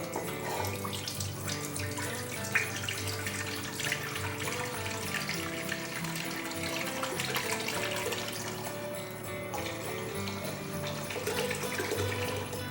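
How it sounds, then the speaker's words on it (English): A steady stream of milk and cream pours continuously into a pot, a full, even splashing flow that runs throughout without pause. "So just pour the milk and cream"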